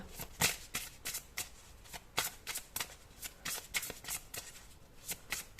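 Tarot cards riffled and shuffled by hand in a steady run of crisp, rapid flutters, close and fairly quiet, with no talking.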